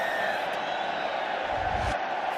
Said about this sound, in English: ironic cheers from this home crowd